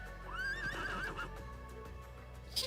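A game horse in Trails of Cold Steel II lets out a loud, rising whinny lasting about a second, followed by softer snorting and a faint clip-clop of hooves under steady background music.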